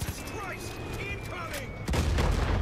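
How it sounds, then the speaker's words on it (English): Mortar fire from Far Cry 5 booms in, with distant whistling and rumbling first, then a heavy low blast hitting loud near the end of the short stretch. "Oh, mortars."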